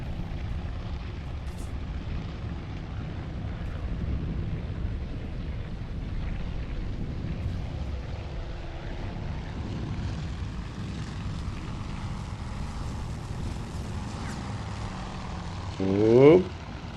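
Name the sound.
Wildcat fighter plane flying through flak, Task Force Admiral video game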